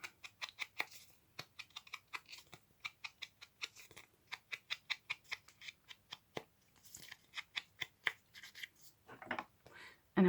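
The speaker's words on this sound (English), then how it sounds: "So I'm going to cut this off." Scissors snip repeatedly through craft material at close range, a long run of crisp, evenly spaced cuts with brief pauses, ending with a louder handling thump.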